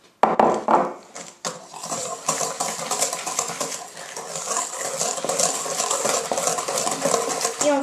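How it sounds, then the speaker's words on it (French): Sugar is whisked into egg yolks in a bowl for strawberry domes, a steady metallic whisk scraping and clattering against the bowl, starting with a few sharp knocks and then running on as continuous rapid stirring. "Maintenant, on va fouetter."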